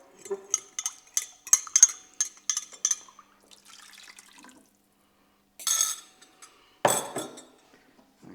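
Spaghetti bolognese sauce in a pan as stock is poured in and stirred: a run of quick metallic clinks and scrapes of a utensil against the pan, a short pause, then two louder bursts of splashing and clatter.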